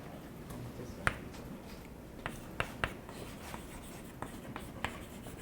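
A lecturer writes notes on a board during a linear system solvers short course, with sparse chalk-like taps and scratches over quiet room tone and no talking.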